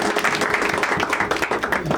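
An audience at a stand-up comedy show claps loudly and densely for a couple of seconds in a lively venue.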